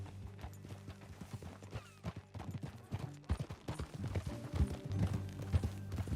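Horse hooves clop steadily at a trot in the video game Red Dead Redemption 2, growing busier and louder, over a low background hum.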